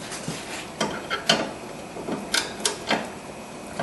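Several sharp metallic clicks and taps from a wrench tightening a stud by hand on a car's front end, spaced irregularly and close by, with no impact gun.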